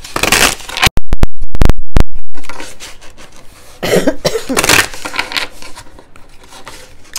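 Several sharp, loud coughs burst out in a quick cluster near the start, surrounded by softer rustling and handling noise.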